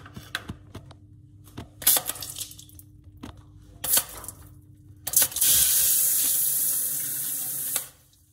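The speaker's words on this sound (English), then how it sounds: "What I might do is get the sprinkler out." Water sprays in a sustained hiss for a few seconds before cutting off, preceded by scattered knocks and clinks.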